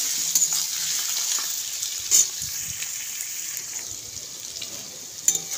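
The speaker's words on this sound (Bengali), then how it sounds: "ভালো করে লাল লাল করে ভেজে নিতে হবে।" Goat meat trimmings frying in a pan until reddish brown, a continuous bright sizzle close up, with a few brief knocks and scrapes of stirring.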